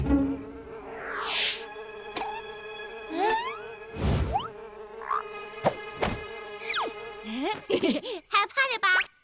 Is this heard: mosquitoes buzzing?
yes